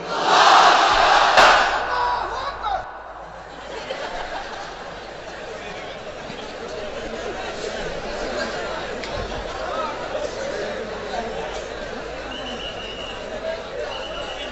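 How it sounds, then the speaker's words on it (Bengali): A large crowd at an outdoor Islamic waz gathering in Brahmanbaria roars out the takbir together, starting with a loud unified burst and then settling into a sustained, distant mass of voices and chatter. "এবার সবাই মিলে 3টা তাকবীর পড়েন একসাথে আওয়াজ করে"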